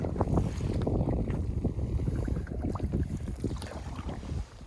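Canoe paddling on a lake in Algonquin Park: steady rhythmic splashes and strokes of a paddle through the water, close by, with low rumbling wind noise on the microphone throughout and no talking.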